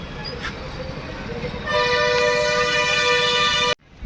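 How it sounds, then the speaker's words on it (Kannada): A BS6 state transport bus at Muddebihal's new bus stand sounds its musical horn, a loud, close, sustained multi-tone melody lasting about two seconds that ends abruptly over the idling engine and station noise. "ನೋಡಿ ಹಾರ್ನ್ ಆ ಥರ ಇದೆ ಮ್ಯೂಸಿಕ್ ಹಾರನ್"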